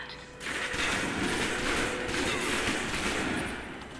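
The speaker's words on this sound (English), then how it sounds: "Now for your submachine guns. If you're trapped in close quarters with multiple opponents, the SMGs can help clear the room quickly." Rapid submachine gun fire in the Alpha Protocol video game, a dense sustained burst of shots lasting a few seconds, loud and close, with no talking.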